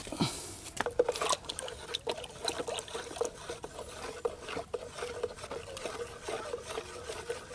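Liquid fertilizer being stirred into about five liters of water in a roughly seven-liter bucket, soft sloshing and trickling with light patter, faint and continuous.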